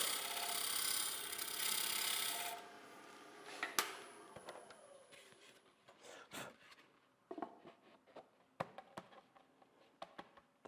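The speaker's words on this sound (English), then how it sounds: "using the gouge, just going to use the wing with a closed flute, going to scrape that down" A bowl gouge with a closed flute makes light cuts on a wooden bowl spinning on a lathe: a dense scraping rush at first, then sparse dry ticks and scrapes, fairly faint.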